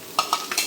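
Chopped potatoes go into a pan of frying onions, and three or four quick, distinct stirring scrapes rise over a low, close sizzle.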